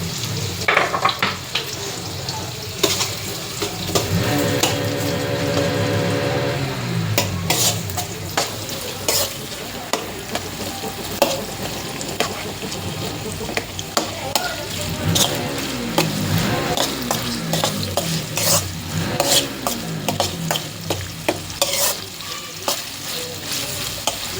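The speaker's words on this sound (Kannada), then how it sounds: "ಸೊ ಸ್ವಲ್ಪ ಗ್ಯಾಸ್ ಹೈ ಇಟ್ಟು ಹೆಚ್ಚಿಗಿಟ್ಟು ಹಿಂಗೆ ಫ್ರೈ ಮಾಡ್ಕೋರಿ" Food frying in a pan over a high gas flame, with a steady loud sizzle throughout and stirring and scraping against the pan. Brief talk sits low in the background.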